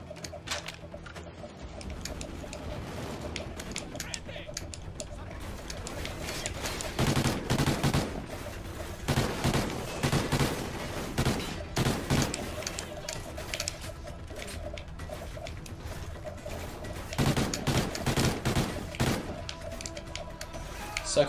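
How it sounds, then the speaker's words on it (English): Gunfire and rapid firework pops crackle through a Call of Duty: Ghosts campaign mission, with bursts swelling and fading over a steady bed of noise. A player talks now and then underneath. "That's cool how the light changes based on like the fireworks around you"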